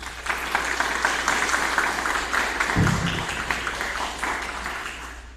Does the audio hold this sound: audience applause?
yes